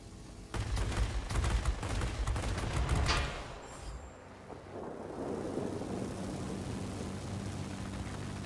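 Aircraft machine guns in the World of Warplanes flight game, fired from a Bf 109 K-6 fighter: a dense, rattling burst for about three seconds over a roaring engine, then the steady engine drone carries on alone.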